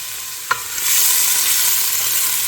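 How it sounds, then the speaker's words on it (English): Chopped onion sizzles in a pot after a single sharp clank of a spoon, then settles into a loud, steady frying hiss while being stirred. "I'm going to stir that around and cook that until it gets translucent"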